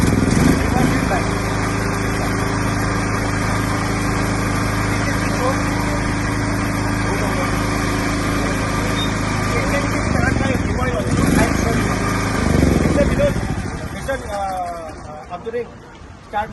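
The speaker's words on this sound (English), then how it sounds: "it's an ultra compact noise version Bajaj and petrol generator set, self start" A Bajaj ultra compact, noise-version 10 kVA self-start petrol generator runs with a steady, loud engine drone and hum. Voices talk over it, and the tone shifts near the end.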